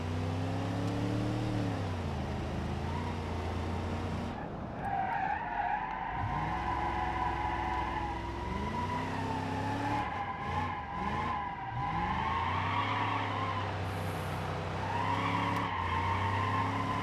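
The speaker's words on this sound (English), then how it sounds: "it can do a good smoke show" A police car in BeamNG.Drive does a smoky burnout, its tires squealing loudly and continuously over a revving, wavering engine note for the whole stretch.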